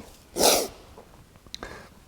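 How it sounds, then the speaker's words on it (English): A single loud, close human sneeze bursts out sharply, followed by quiet breathing and small rustling sounds. "Sorry, I'm going to sneeze."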